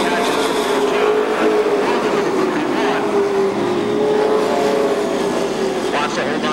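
Pro stock race cars roar around Seekonk Speedway during a 1999 feature race, a loud sustained engine drone that swells and fades as the cars pass, with an announcer talking over it.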